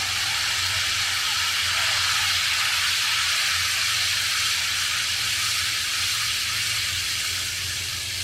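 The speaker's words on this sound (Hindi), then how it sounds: "अब इसके अंदर टमाटो पेस्ट डाल देते हैं।" Tomato paste goes into whole spices frying in a pot for mutton biryani, a loud, continuous hissing sizzle that holds steady throughout over a low hum, close up with no talk.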